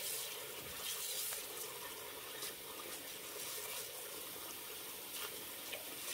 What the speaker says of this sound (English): So we're just filling up our pot.